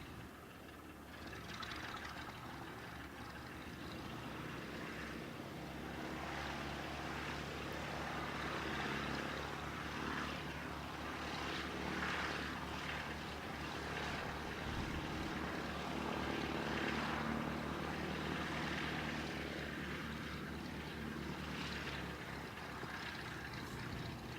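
An Emirates airliner at an airport on runway 29 produces a steady, distant jet roar that swells gradually and holds for over twenty seconds with no talk.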